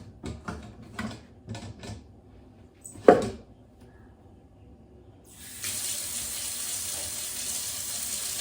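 Tap water runs steadily from a kitchen faucet while curdled milk for paneer is strained through a cloth-lined strainer, the flow starting partway in after a few soft knocks and clatters.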